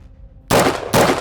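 Two loud, close rifle shots from a rifle fitted with a muzzle device, each a sharp blast followed by a short reverberating tail, fired about half a second apart after a quiet hum.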